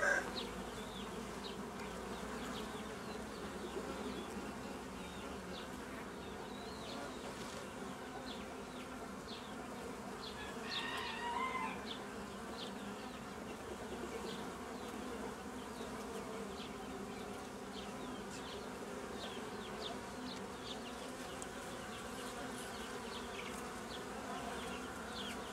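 Honey bees buzz steadily around a small hive nucleus, a dense, continuous drone close by with brief louder passes and no voices.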